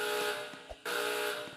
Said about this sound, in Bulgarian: Аларма, what the hell?